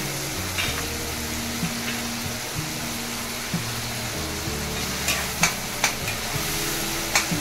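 Tomatoes sizzle and fry in a pan while a spoon stirs them, producing a steady crackle with scattered scraping clicks and knocks near the end, with no talk.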